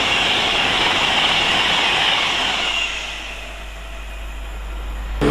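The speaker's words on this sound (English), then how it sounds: "it's Pendolino time again, from Liverpool Lime Street to London Euston" A Pendolino electric train runs on the West Coast Main Line at Tamworth, a broad rushing roar that fades midway and then swells slightly again near the end.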